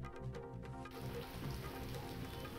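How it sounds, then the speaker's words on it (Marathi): Steady rain patters down across a district in the Sahyadri region during the monsoon, a dense, even hiss that fills the whole clip with no voices. "जिल्ह्यात पावसाची रिपरिप सुरूच आहे."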